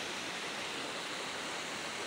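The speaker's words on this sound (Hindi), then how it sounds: "पानी कंटिन्यू नीचे जा रहा है" Water rushing steadily downhill at Shahdara Point in Islamabad, a continuous broadband roar of flowing stream or small falls with no break, close and even throughout, no voices.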